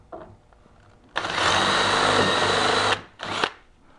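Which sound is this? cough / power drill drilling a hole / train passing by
power drill drilling a hole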